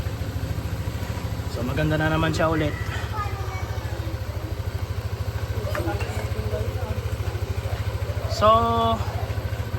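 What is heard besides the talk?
motorcycle engine idling, warming up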